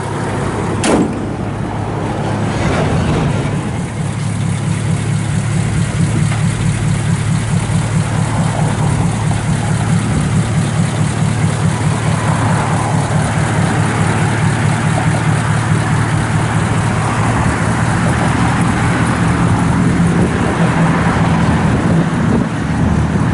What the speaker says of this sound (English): You can't even hardly hear this thing run.